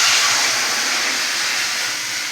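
Water poured into a pan to make sugar syrup gives a steady, close, loud rushing hiss that holds evenly for about two seconds and fades slightly at the end, with no voices.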